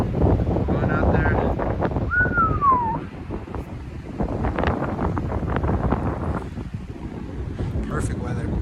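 Strong gusts buffet the microphone on a closed, snow-covered mountain road after a snowstorm, a heavy continuous low roar with a brief whistling tone early on and a voice talking partway through.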